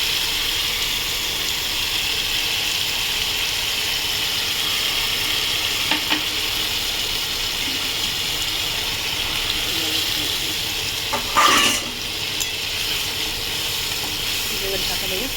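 Water poured onto fish frying in a mustard sauce sizzles loudly and steadily with a constant bright hiss, a brief surge of crackling partway through, while a person talks over the cooking.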